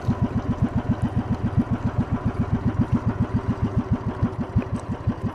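A small boat engine out on the water sputters in a fast, regular putt-putt rhythm, close and continuous, running with no speech over it.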